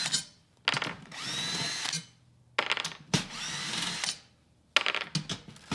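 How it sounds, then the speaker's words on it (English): A power drill fitted with a bit loosens snare drum tension rods in four short whirring bursts, close and fairly loud, separated by brief silences. "I'm going to work with a drill with a bit here that works for tension rods."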